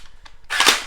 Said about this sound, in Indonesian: Jadi kalau mode auto ini kita tembak, nanti si kokangannya ini nih dia bakal ikut ke belakang juga.